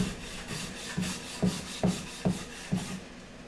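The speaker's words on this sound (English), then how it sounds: "I can take it out and just use the surform on it a whole bunch, trim it down" A surform rasp trimming down a wooden frame piece for a dance pad replica: a run of about six short scraping strokes at a steady pace, close and fairly quiet, with no talking.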